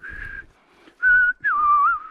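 A few wavering, breathy whistled tones in short separate attempts, the last one sliding downward in pitch; no talking.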